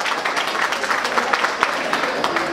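An audience at a restaurant show in San Salvador claps for the mothers in attendance, a lively, uneven patter of many hands with a few sharper individual claps, close and moderately loud.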